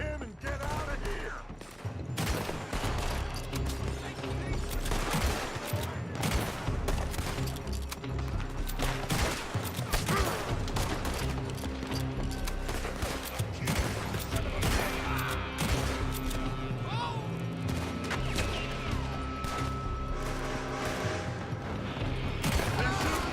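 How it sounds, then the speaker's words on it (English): Dense, sustained gunfire in a Red Dead Redemption 2 shootout, rapid overlapping rifle and pistol shots cracking loudly and continuously alongside crashes and clatter, with game voices shouting at moments. "They're shooting from that building."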